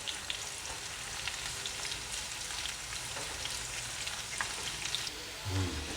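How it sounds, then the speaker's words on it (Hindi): Small chopped onion dropped into hot oil for a kadhi tempering, frying with a steady soft sizzle and light crackle, faint and close, with a brief stir near the end. "ये मैंने एक छोटी प्याज ली थी, ये मैं इसमें डाल दूँगी।"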